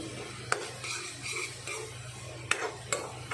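Masala and tomato fry together for aloo gobhi, a soft sizzle broken by a few sharp spatula knocks against the pan during mixing, fairly quiet and close, with no speech.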